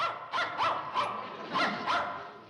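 A dog barks five or six times in a sitcom setting during spring cleaning, sharp barks spaced across a couple of seconds, fairly close and clear with no talking.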